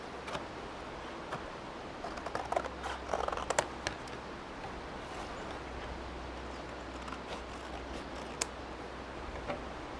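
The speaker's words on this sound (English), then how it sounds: "We're going to go ahead and cut it out." Scissors cut out a cardboard rectangle in a quiet room, giving soft, irregular snips and crunches scattered over a low steady background hum, faint and close, with no talking.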